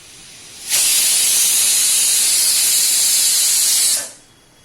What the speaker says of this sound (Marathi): कुकरच्या दोन शिट्ट्या आपण आता करून घ्यायच्या आहेत